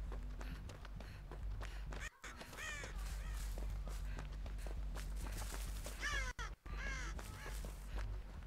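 Several crows caw in Dead by Daylight, with loud bursts of calls early and again late in the stretch, layered over hurried footsteps and a droning low background, with short silent gaps.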